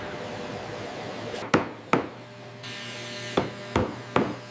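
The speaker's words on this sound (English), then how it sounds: "Hammering flattens the bond, securing the fold." A hammer strikes folded, glued snake leather edges about six times in an irregular rhythm, with sharp close taps rising above a steady workshop hum.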